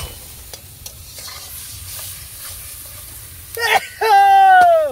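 Potatoes, green chillies and tomatoes hitting hot masala in a pan at a riverside camp cook-out: a quiet scraping stir builds to a loud, steady sizzle near the end, while a voice and sharp tonal sounds ring over it.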